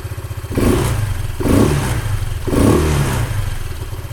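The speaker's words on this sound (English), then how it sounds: "You see how it revs up a lot faster than stock." A Honda ADV 150 scooter fitted with a Yoshimura exhaust is blipped three times, each quick rev rising to a loud, close, raspy growl before dropping back toward idle between bursts.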